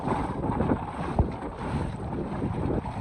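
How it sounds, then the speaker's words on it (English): A kayak driven by a Newport 86lb-thrust electric motor pushes through choppy waves, with a steady roar of rushing water and wind buffeting the microphone, plus a brief splash thump partway through. "Look guys, I'm blasting through water."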